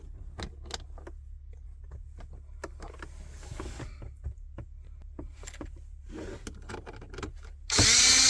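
Power driver with a Torx 20 bit running bolts back in on a Land Rover Range Rover Sport L405 driver door: short close whirring bursts and clicks, ending in a louder sustained burst.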